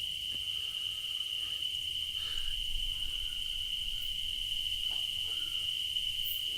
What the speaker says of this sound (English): there's a lot of crickets in there.